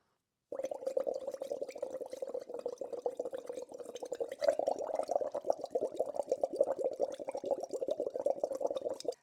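Steady close bubbling as air is blown through a straw into a glass of water, a continuous gurgling rattle lasting several seconds with no talk.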